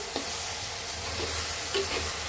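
Prawn do-peyaza gravy being stirred into mixed winter vegetables in a frying pan, with a steady close sizzle and a few soft scrapes of the spoon, no voices.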